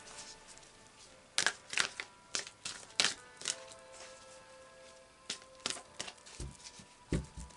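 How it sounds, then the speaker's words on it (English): Psychic Tarot cards shuffled by hand in a quiet room, a run of crisp riffling and slapping bursts, some quick and clustered, others spaced with short pauses, close and moderately loud. "So I'll just do a final shuffle of the Psychic Tarot."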